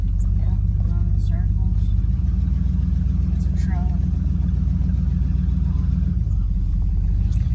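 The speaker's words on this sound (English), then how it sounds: "I love this truck. Going in circles." A 1983 Chevy C20 pickup with a 350 engine drives in circles in a farm field, its engine rumbling low and steady throughout while people talk over it.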